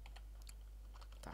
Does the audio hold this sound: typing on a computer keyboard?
yes